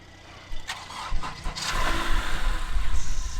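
A car engine cranking after a jump start with jumper cables, a few sputtering turns and then catching into a steady idle close by.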